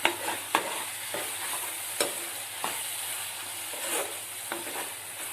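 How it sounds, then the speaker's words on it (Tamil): Ginger garlic paste sautéing with tomatoes in a pan for prawn gravy, a quiet steady sizzle punctuated by sharp spoon scrapes and stirs at uneven intervals, heard alone without speech. "இஞ்சி பூண்டு பேஸ்ட் பச்சை ஸ்மெல் போற வரைக்கும் வதக்கிக்கிட்டேன்"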